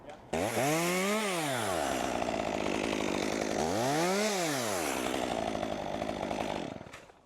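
Chainsaw cutting a small tree limb near power lines, loud and close, engine revving up and down twice as it bites through the wood, then easing off at the end.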